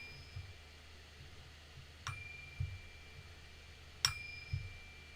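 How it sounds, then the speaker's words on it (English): A chime is struck twice, each sharp metallic hit leaving a thin ringing tone that lingers, with soft low knocks and taps between the strikes in a quiet room. "as you hear the chime, you relax deeper."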